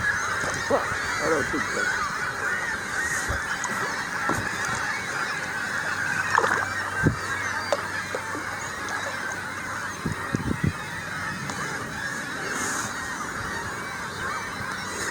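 Gulls calling repeatedly on the Ottawa River, a dense, continuous chorus of harsh honking cries at moderate distance, with brief speech and paddling noises mixed in.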